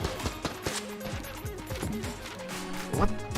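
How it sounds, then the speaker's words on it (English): Rapid bursts of t-shirt cannon fire in a video game, layered with clattering impacts and other game effects, with a voice talking briefly over the action. "Oh, that's the t-shirt cannon."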